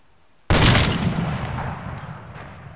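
A sudden loud gunshot in the survival game DayZ Epoch cracks out close by and rolls into a long, fading echoing tail, with a faint second report sounding during the decay.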